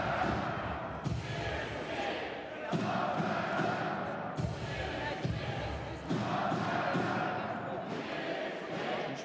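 Crowd noise in a basketball arena during a Nizhny Novgorod versus Türk Telekom game, a moderate roar of voices and cheers with periodic thumps and surges, beneath commentator talk.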